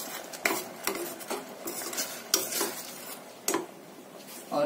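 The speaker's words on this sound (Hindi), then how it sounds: "और इस मलाई को भी ग्रेवी के साथ मिक्स कर लेंगे।" A spoon clinks and scrapes against a pan as cream is stirred into a cashew curry gravy, a run of close, fairly loud metallic knocks and swishes with no talking.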